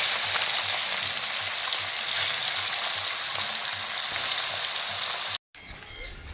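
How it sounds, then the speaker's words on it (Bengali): Fish frying in a pan, a dense continuous sizzle with faint crackles, close and steady, cutting off abruptly near the end into a quieter room sound. "মাছটা ভেজে রেখে"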